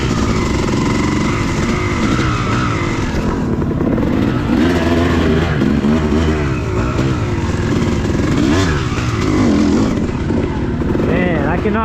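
Motorcycle ridden along an overgrown singletrack trail with fallen trees, its engine droning loudly and steadily throughout with shifting revs, and a voice talking over it.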